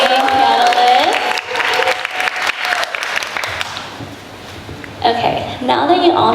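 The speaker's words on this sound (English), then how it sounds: "Let's give a big round of applause to welcome our amazing panelists." An audience at a business panel event gives a sustained round of applause. The clapping is dense and loud, fades toward the middle, then swells again near the end.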